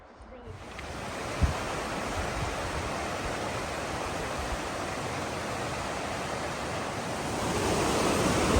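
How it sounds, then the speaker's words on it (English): A river that must be forded on a backcountry hiking trail, its water rushing in a steady broadband wash that holds evenly throughout and swells slightly toward the end, with faint wind noise mixed in. "this is the river that you have to ford if you want to get to the hut"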